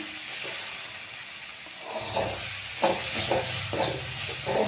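Boiled cabbage is stirred into dal in a hot pan for cabbage poriyal, a soft sizzle broken by repeated scraping, stirring strokes that grow louder midway.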